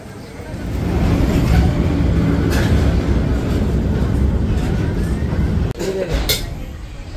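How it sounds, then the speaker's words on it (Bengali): Gour Express train rolling into New Farakka Junction, a loud, steady low rumble of the carriage with broadband noise, heard from inside the coach and ending in a brief clatter and shift near the end. "এই যে নিউ ফারাক্কা জংশন, আমাদের ট্রেন ঢুকলো 10টা 1-এ"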